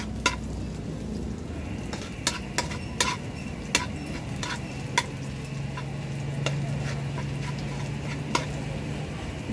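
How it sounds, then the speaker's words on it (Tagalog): Garlic sautéing in a pan, a constant sizzle of frying under repeated sharp ticks and clinks of a utensil against the pan, close and fairly loud, with no talking. "Gisa na tayo ng bawang"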